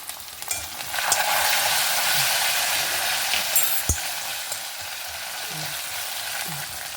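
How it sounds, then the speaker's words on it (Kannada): A tempering sizzles hard once water is added, giving a dense, steady hiss of frying. A sharp clank from the pan comes about midway, followed by lighter stirring scrapes. "ಒಂಚೂರು ಹಿಂಗೆ ನೀರು ಹಾಕಂತ ಇದ್ದೆ ಒಗ್ಗರಣೆಗೆ"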